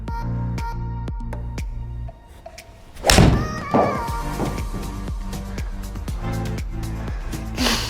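A golf iron strikes a ball with a single sharp, solid impact in the middle, standing out over a low background hum, followed by a quieter thud.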